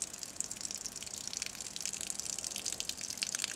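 Water runs steadily from a tap while tomato seeds are rinsed, a continuous hissing gush with faint drips, moderately loud and without any voices.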